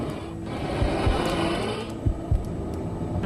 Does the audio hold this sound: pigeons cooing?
no